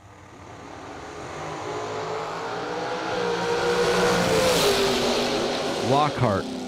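A drag racing car launches from a green light start at the RAD Torque Systems Fall Fling, its engine roar building and rising in pitch, while an announcer talks over it.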